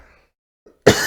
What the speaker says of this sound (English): coughing because of vaping